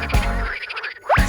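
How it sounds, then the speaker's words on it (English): Frogs croak in short, rapid, close bursts with a buzzy, pulsing quality in a brief, dense run. "6 frogs."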